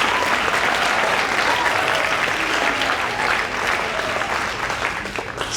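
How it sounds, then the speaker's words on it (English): A middle school prize day audience claps loudly and continuously, a dense, even wash of applause that barely eases toward the end. "Applause."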